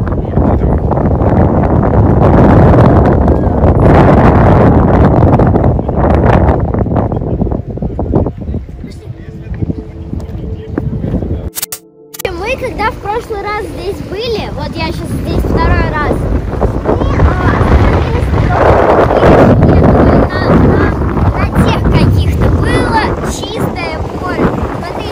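Strong wind buffets the microphone beside a lake at a sand quarry, a loud continuous roar of rumbling gusts that nearly drowns the talk of people speaking throughout.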